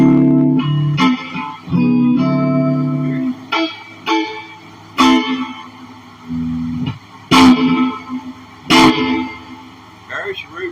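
A voice on a live stream carries a light reverb effect set to about 20 percent, with short echoing tails after each loud, tonal phrase, separated by brief pauses.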